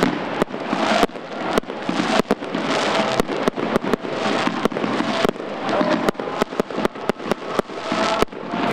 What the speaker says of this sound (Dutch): toch de supporters dan mooi vuurwerk afsteken